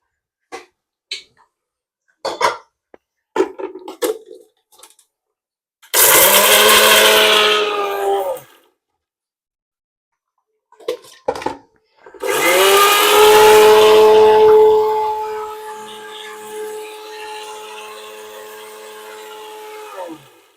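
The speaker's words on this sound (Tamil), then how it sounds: "உடைச்ச கடலை, தேங்காய், பச்சை மிளகாய், 2 பல்லு பூண்டு அரைச்சி எடுத்துட்டு வந்துடுறேன்" A kitchen mixer grinds roasted gram, coconut, green chili and garlic for chutney. It whirs loudly in two bursts of a few seconds each, separated by handling clatter and clicks, and the second run trails off as the motor winds down.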